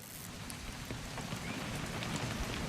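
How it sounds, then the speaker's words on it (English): Steady rain in the video game What Remains of Edith Finch, a dense even hiss of falling drops with faint patters, continuous and fairly soft, no voices. "It's gonna rain the whole weekend, isn't it?"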